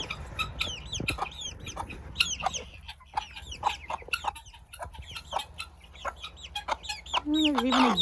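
A guinea fowl gives loud, harsh repeated calls among clucking chickens in a farmyard, sharp bursts coming in quick irregular succession, with faint talk in the background.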